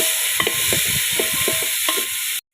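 Small onions, shallots, sautéing in a pan for a Kerala chicken curry, a loud close sizzle broken by several rhythmic scraping stirs of a spatula before cutting off abruptly.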